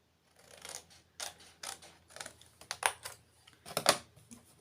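Short crisp snipping and rustling bursts of scissors cutting paper, about a dozen irregular snips close to the microphone in a quiet room.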